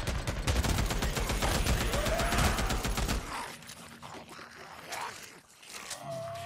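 Rapid automatic gunfire from the Days Gone video game, loud and sustained for about three seconds, then dropping to scattered softer clatter and scraping sounds.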